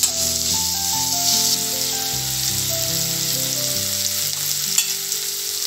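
Onions fry in a pan for spring roll filling, giving a dense, continuous sizzle with a stirring clatter of a utensil running through it.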